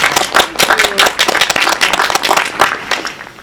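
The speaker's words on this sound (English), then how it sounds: "Please, round of applause." Applause from a studio audience for a new music talent coordinator joining a TV team, a short burst of clapping with dense sharp claps, fairly close and steady for a few seconds.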